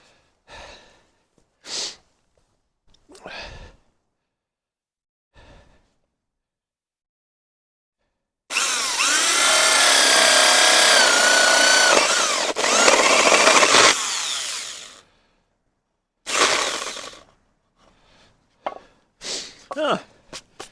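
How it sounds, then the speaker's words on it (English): A big power drill bores a hole in a wooden birdhouse, a loud continuous whirring grind for about six seconds with a brief restart, framed by short breaths and quiet pauses. "Okay, let's try the big drill."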